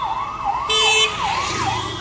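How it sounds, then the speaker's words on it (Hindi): Wailing siren from official vehicles passing on a road in Kotabagh, rising and falling in repeated sweeps, loud and close, with a brief extra tone midway. "देखो भाई सायरन की आवाज़ सुनिए आप"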